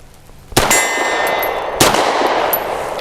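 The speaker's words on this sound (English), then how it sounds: "I don't know where that second shot is going." Two sharp, loud shots from a Grand Power P1 Ultra pistol, each a sudden crack with a ringing tail, about 1.2 seconds apart and close to the listener, with no talk.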